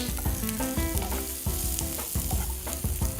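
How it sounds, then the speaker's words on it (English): Finely chopped sausages fry in a single pot, giving a close, steady sizzle broken by repeated scraping and stirring knocks from a spoon. "We just have to cook this enough कि जो sausages है वो cook हो जाए।"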